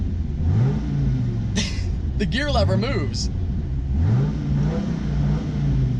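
A 2004 Dodge Viper engine revs in a low rumble with rising and falling pitch sweeps, close and steady, while a person talks over it.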